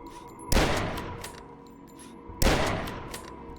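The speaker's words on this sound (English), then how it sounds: "This is a hunting rifle" Two loud hunting rifle blasts from the retro shooter game Dusk, each a sharp crack trailing into a long echoing decay, spaced about two seconds apart with no talking.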